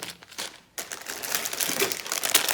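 Thin plastic packaging for a Ninjago LEGO car set crinkles and rustles steadily as it is handled and unpacked, close and fairly loud, after a brief quiet pause near the start.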